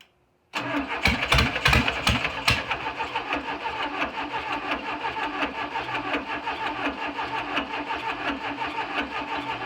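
Volkswagen Beetle engine cranking and firing after the spark plug wiring and timing were adjusted, a loud sudden start with a few rough catches, then a steady, uneven-sounding idle close by.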